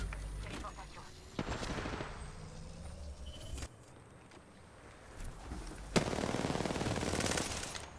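Rapid automatic gunfire crackles in bursts during a battle royale shooter match, fairly quiet and intermittent, with sharp single shots and a louder stretch near the end amid background game sounds and talk.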